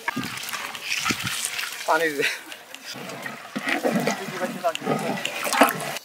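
Hot water is poured into a pot of pilau in a village kitchen, sloshing and splashing in uneven bursts beneath a person talking.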